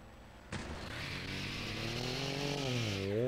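A Hot Rod engine in the Hill Climb Racing video game starts abruptly and holds a steady buzzing drone, its pitch rising and wavering as it revs up toward the end, with no talking over it.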